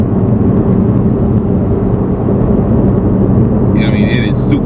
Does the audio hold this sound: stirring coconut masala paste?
no